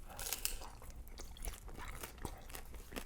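Close, crisp crunching from biting into the baked cheese edge of a spicy Mexican pan pizza with chorizo and Oaxaca cheese, a few loud snaps at the start and then softer chewing crunches.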